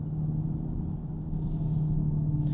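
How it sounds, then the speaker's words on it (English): A Dodge Charger Daytona Scat Pack's Fratzonic synthetic exhaust in auto mode gives a steady, low, droning rumble with a faint hum that swells slightly, heard close and without talk. "I occasionally like the fratzonic noises that this car makes"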